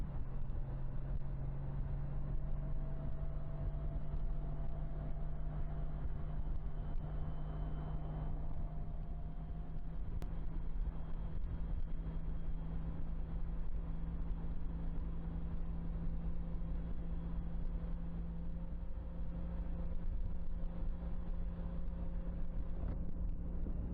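Engine of a Can-Am Ryker three-wheeled motorcycle running smoothly, a steady low drone with a constant hum and wind rush, no talking.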